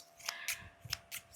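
Scissors being handled close up, with four or five crisp metallic snips and clicks spaced irregularly over a quiet background.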